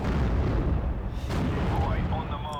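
Ammunition cooking off on a destroyed StuG assault gun in the WWII strategy game Steel Division: Normandy 44, a loud sustained explosive roar with crackling bursts, close, under game voice chatter.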